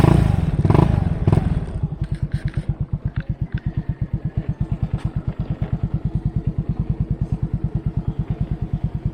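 A Yamaha Mio Soulty scooter engine cranks and catches, a few clunks at the start before it settles into a steady, close, rhythmic idle putter.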